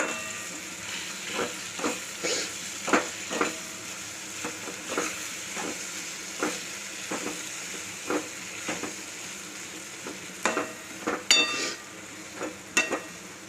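Eggplant being stirred and mashed in a hot pan, with a low continuous sizzle broken by repeated scraping and tapping strokes at an uneven rhythm, close and fairly quiet, with no talking.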